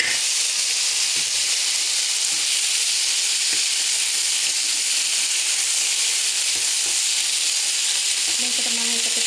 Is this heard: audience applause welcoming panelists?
no